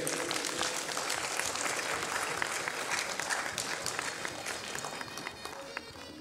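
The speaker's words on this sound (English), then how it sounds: "Ladies and gentlemen, put your hands together for Lores Peloso." A crowd applauds a guitarist at a Pak-Swiss cultural event at the Alhamra Art Council, with dense, steady clapping that holds loud for the whole stretch and thins slightly near the end.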